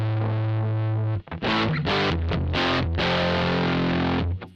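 An electric guitar runs through a Marshall JTM1 head pushed to maximum loudness, heavily distorted and crunchy, with a sustained chord followed by loud strummed chords ringing out.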